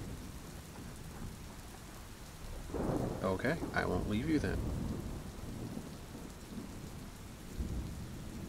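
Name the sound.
thunderstorm with rain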